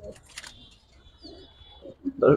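Giribaz, racer and fancy pigeons coo at close range at a pigeon seller's, with a few soft low coos in the middle and a louder burst at the end, plus a thin high chirp early on.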